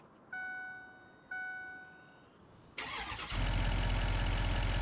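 A modded car in a video game starts up: a couple of chime tones, then a sharp crank and the engine catching into a loud, steady idle that fills the end of the clip.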